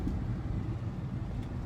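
Steady low road rumble of a car being driven, a continuous close engine and tire drone from inside the vehicle, with no talking.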